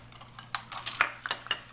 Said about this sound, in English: And we're going to stir it.